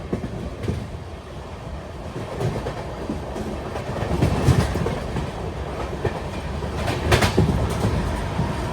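Garib Rath Express passenger train running from Delhi into Haryana, heard from on board as a steady rumbling roll with rhythmic clickety-clack of wheels over rail joints, swelling slightly louder toward the end.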